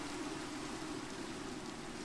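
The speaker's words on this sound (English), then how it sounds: "This could be just be heavy rain." Heavy rain falling in the Minecraft video game, a steady even wash of noise that stays unbroken and alone throughout, moderately quiet with no voices.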